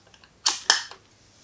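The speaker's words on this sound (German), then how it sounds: "Für präzises Scharfstellen ist eine Lupe eingebaut, die man einfach einschwenken kann." Two sharp mechanical clicks from swinging the built-in focusing magnifier into place on a Mamiya C220 twin-lens medium-format camera, close and crisp, about a quarter second apart, followed by a softer trailing click, with no talking.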